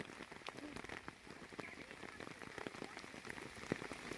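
Heavy monsoon downpour, rain on the scale of Cherrapunji, falling steadily close by: a dense, even hiss full of scattered drop patter that never lets up, with no voices.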